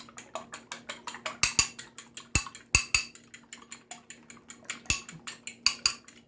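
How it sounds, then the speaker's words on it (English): Two eggs whisked in a bowl with a fork or whisk, a steady run of quick clinking taps against the bowl's side, close and fairly loud, with no talking. "And I like to whisk them together a bit."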